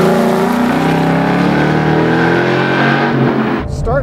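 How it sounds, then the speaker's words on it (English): Ford Mustang Boss 302 V8 racing on the Laguna Seca track, a loud, steady exhaust note with harmonics climbing and falling through the gears, close and continuous, ending in a brief dip near the end. "Love the exhaust note."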